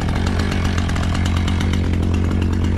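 A chainsaw cutting logs for firewood outdoors, its engine roaring loud, close and constant for the whole stretch, with a steady low drone under rough, buzzing cutting noise and no talking.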